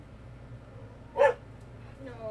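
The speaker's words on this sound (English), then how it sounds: "No, don't be barking at the dog." A single sharp bark from a nearby dog breaks a quiet indoor room, followed by a brief faint voice.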